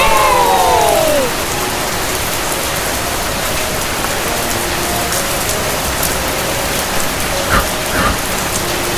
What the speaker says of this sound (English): I feel happy when it rains.